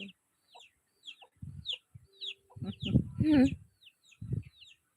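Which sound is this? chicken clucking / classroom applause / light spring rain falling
chicken clucking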